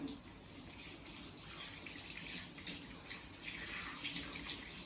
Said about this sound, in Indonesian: Setelah itu nyalakan lagi dan bilas tangan.